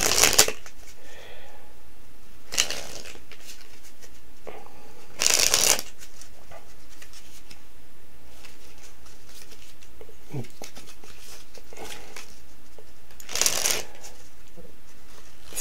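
Plastic-coated magic playing cards being shuffled close up in several quick riffling bursts, spaced apart by quieter pauses with faint handling noises.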